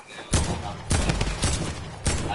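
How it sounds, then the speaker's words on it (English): Enemy gunfire in Fortnite, several loud, sharp bursts of shots spaced apart over a continuous game background, heard close with no talking during the shots. "there's a guy up here shooting us"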